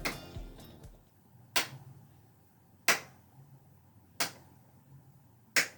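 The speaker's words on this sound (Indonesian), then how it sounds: "kalian memainkan bunyi dari tubuh ya" Body percussion played as a music demonstration: four sharp, evenly spaced claps or slaps ring out alone, each followed by brief decay, after a short muffled knock at the start.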